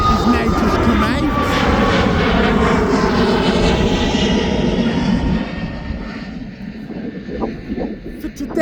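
Ryanair jet airliner at East Midlands Airport, a loud rumbling engine roar close by that is strong at first and then eases off, with a voice talking over it.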